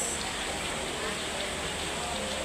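Steady rain hisses continuously, a dense wash of falling water with no breaks.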